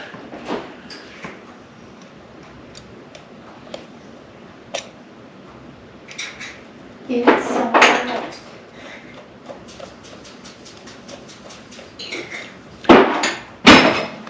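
Screws being driven into a fuel pump housing during a leak repair, heard as scattered sharp clicks and taps with a few louder, grinding bursts of tool noise near the middle and end.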